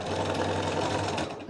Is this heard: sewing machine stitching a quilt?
yes